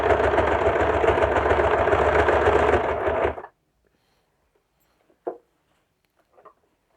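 A sewing machine stitches a suit collar with a steady, close whirring run for about three seconds, then stops, leaving near silence with a couple of faint brief handling sounds.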